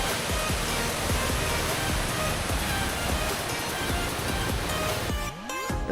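Heavy water pounding down at Kendai waterfall in Korba, Chhattisgarh, a loud, steady broadband roar that fills the whole stretch, briefly dipping near the end.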